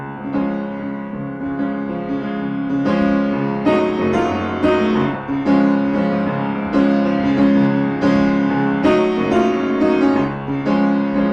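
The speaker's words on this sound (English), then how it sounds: "I don't really play this on the piano very much" An original song played on piano, with full sustained chords and a steady, rhythmic flow of struck notes throughout, close and fairly loud with no voices.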